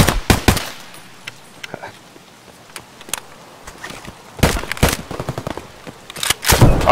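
Rapid bursts of gunfire in a tactical shooter match of Escape from Tarkov, loud close volleys at the start and in clustered rattling strings later, with quieter scattered shots and footstep-like clicks between.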